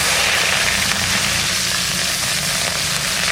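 Onions frying in hot mustard oil in a pan for a prawn dish, a loud dense continuous sizzle with a low rumbling undertone, steady throughout with no voices.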